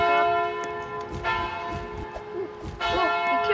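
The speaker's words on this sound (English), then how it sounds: "I know that the bell is ringing at the end" A church-style bell rings steadily in the Roblox game Royale High, its sustained tones layered with repeated strokes through the whole span, with a few brief game noises under it.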